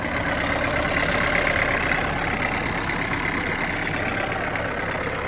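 A mini John Deere tractor with a 70-horsepower Opel 2.3 engine idling steadily, a constant close rumble with faint rhythmic knocking and no break.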